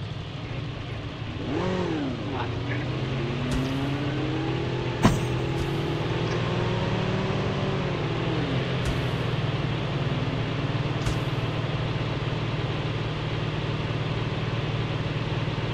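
A motorcycle in a video game revs near and fairly loud, its engine note climbing and falling in a few sweeps over a steady low drone, with occasional sharp clicks.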